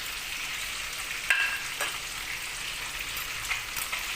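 Malunggay leaves are stirred in a hot cooking pot with a steady sizzling hiss and a few faint utensil scrapes and clicks, heard close with no talking.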